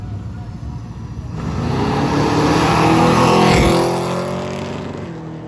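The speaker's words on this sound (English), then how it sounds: "we have the Mopar Power over in the far lane, 520 cubic inch big block. And then we have the Pro Street Pontiac here in the near lane" Two hot rods drag race, a 520 cubic inch Mopar big block against a Pro Street Pontiac on big tires, their engines swelling into a loud, sustained roar as they launch down the strip.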